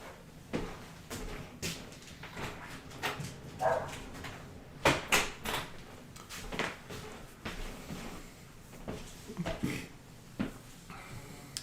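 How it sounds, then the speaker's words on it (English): Dogs bark in scattered, irregular bursts, some sharp and close, others muffled, with occasional thumps and knocks in between. "You can probably hear my dogs barking."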